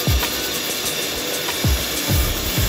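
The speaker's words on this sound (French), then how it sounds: "Je pourrais le faire à la brosse mais c'est tellement mieux avec un tour." A rotary tool spins against spark plugs to clean them, during a breakdown repair on a low-budget Renault Mégane track car. A steady high whine runs throughout, with several short low thumps and scrapes as the tool touches the part. No talking.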